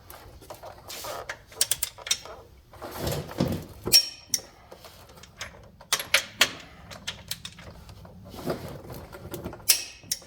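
Torque wrench tightening rod bearing bolts on a Cummins NT855 Big Cam engine in a Peterbilt, worked from a creeper, giving a scattered run of sharp metallic clicks and ratcheting snaps with quieter mechanical handling between them.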